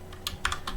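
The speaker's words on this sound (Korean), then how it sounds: "붙이기, 컨트롤 V, 아래로 키보드 화살표, 홈키, 붙이기, 아래로 키보드 화살표, 홈키, 붙이기" Computer keyboard keys are pressed while editing HTML code: a handful of quick, crisp clicks over a steady background hum.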